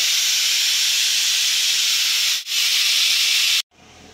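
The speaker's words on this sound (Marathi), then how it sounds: "हे बघा शिट्टी झाली आहे, अजून एक करून घेऊ" A pressure cooker whistle blows steam on a home kitchen stove: a loud, steady hiss that dips for a moment, then cuts off abruptly, leaving a quieter hiss behind.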